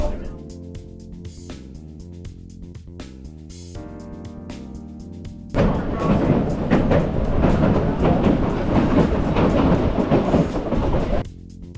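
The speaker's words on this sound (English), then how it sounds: "We're on the Durango to Silverton train in Durango, Colorado, and we're about to leave for Silverton." Durango to Silverton train in Colorado, heard from aboard: a loud, continuous rumble and clatter of the cars rolling along the rails, preceded by a stretch of music-like tones.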